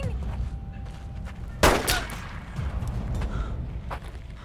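A single sharp, loud gunshot cracks out in a tense sci-fi action film scene, standing out briefly above a low background rumble and faint voices.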